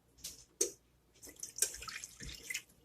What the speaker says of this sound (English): then we are going to add 1 cup of water